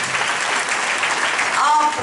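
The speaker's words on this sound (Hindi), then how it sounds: "एक बार फिर से ताली बजाएंगे यीशु मसीह के लिए" Church congregation claps for Jesus Christ during a Hindi worship service, a loud, close, sustained burst of applause from many hands, with a few voices calling out faintly over it near the end.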